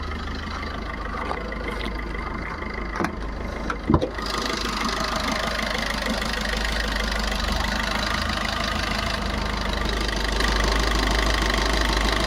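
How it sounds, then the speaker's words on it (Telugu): A 2018 Maruti Swift Dzire VDI automatic diesel engine idles steadily with a low, constant rumble and slight knocking, a brief clunk early on, otherwise unchanging and close. "వెహికల్ ఇంజన్ కండిషన్ చూసుకున్న చాలా ఎక్సలెంట్"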